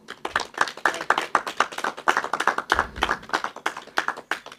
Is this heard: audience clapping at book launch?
yes